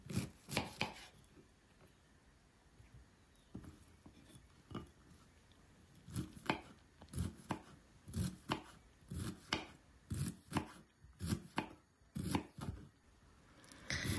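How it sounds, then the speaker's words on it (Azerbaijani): Steady knife chopping of red cabbage on a board, with quick bursts of close, crisp strikes separated by short pauses. "Kələmi gördüyünüz kimi bu formada xırda-xırda doğrayıram."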